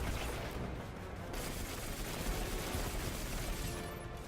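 Dense, continuous gunfire from the Destiny 2 video game, a steady loud barrage of shots and booms packed together with no pauses and no voices.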